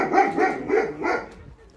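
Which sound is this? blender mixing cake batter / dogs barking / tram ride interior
dogs barking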